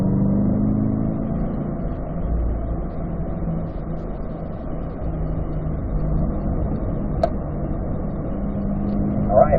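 A car engine drones steadily on a race track, a muffled, constant mid-pitched hum heard from inside that holds level and swells slightly at the very end.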